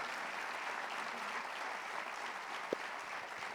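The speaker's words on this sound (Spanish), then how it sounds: "¿Cuántos pueden dar un fuerte aplauso al Señor por este milagro?" Church congregation applause, a steady wash of clapping from a crowd heard at moderate distance, continuous throughout with one brief louder knock.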